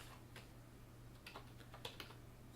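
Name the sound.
typing on a computer keyboard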